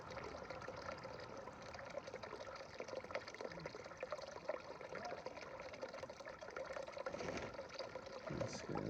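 Water pushed through a hand-pumped hiking water filter on a trail, a faint, steady trickling and gushing flow running continuously with small rhythmic surges, no talk.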